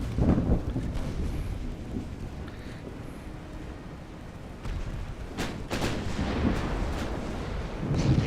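Naval gunfire and explosions in the warship game Ultimate Admiral Dreadnoughts: heavy booming blasts and rumbling detonations roll out over a windy background, with sharp bursts clustering near the end.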